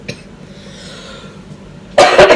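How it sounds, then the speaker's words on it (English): A single hard, close cough bursts out near the end after a couple of seconds of near silence. "I'm just going to have a great big cough now"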